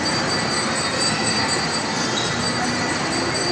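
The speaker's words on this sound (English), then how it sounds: "Ay, umandar na yung train." A train rolls along its rails, a dense, continuous rumble and hiss with faint wheel squeal, loud and steady throughout.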